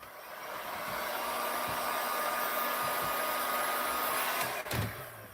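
A handheld heat tool blows hot air over UV resin on glitter-coated office supplies, a steady close whooshing hum that ends with a brief clunk as it shuts off.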